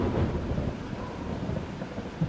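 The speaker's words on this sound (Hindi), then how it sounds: "बादलों की गड़गड़ाहट ने सन्नाटे को तोड़ दिया।" Low, steady rumbling of thunder rolls through a storm, with a soft wash of rain and a brief louder swell near the end.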